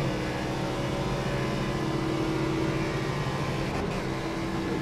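A race car lapping the Daytona road course drones with a steady engine note at moderate distance, a continuous even hum with a brief dip near the end.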